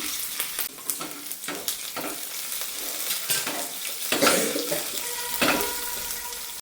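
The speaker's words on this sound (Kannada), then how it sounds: "ಇವಾಗ ಇದಕ್ಕೆ ಕರಿಬೇವು ಮತ್ತು ಹಸಿಮೆಣ್ಸಿನ್ಕಾಯಿ ಚೆನ್ನಾಗಿ ಫ್ರೈ ಮಾಡ್ಕೋಬೇಕು ಇದನ್ನು" Curry leaves and green chillies fry in a hot pan with a steady crackling sizzle, stirred now and then with scraping clicks, loud and close, with no voices.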